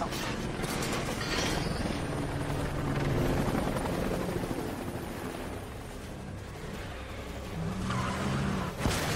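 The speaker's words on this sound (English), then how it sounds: "pursued by hostiles and a stolen police helicopter." A stolen police helicopter chases a white van in a movie pursuit scene near an air base, its rotor drone rumbling steadily alongside car noise and tire squeals, with a sharp impact near the end.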